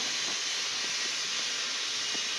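Three dry red chillies hit a hot pan and sizzle, producing a loud, steady close hiss that continues unbroken without talk.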